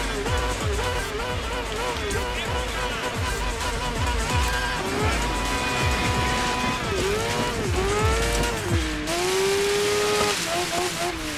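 Rally car in Dirt 5 racing on dirt in Greece: a loud, continuous engine rising and falling through gear changes, with tire noise and skidding, while a voice talks over it.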